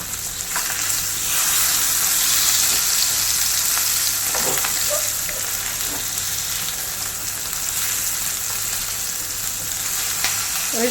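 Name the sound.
fish frying in a pan, Kerala-style fish fry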